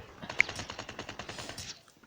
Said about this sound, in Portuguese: Um tanto de tiro pra mim tentar acertar no cara